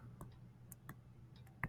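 Calculator keys being typed, heard as a handful of faint, sharp plastic clicks spaced irregularly over a low background hum.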